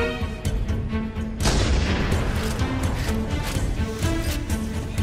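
Dense, continuous gunfire and booming blasts in the video game Halo CE, loud and sustained with rapid overlapping shots and a heavy impact near the start.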